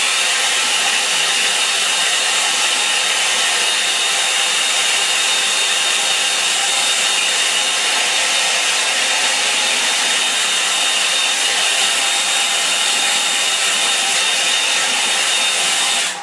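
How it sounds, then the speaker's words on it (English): A hairdryer drying a watercolour painting blows continuously at close range, a loud, steady airy roar that holds unchanged from start to finish. "I'll give that a bit of a fix with the hairdryer"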